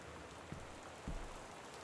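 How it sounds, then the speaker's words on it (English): Heavy rain pours steadily in the video game Gone Home, a constant loud hiss with a couple of soft thumps and no talking. "That's some loud rain."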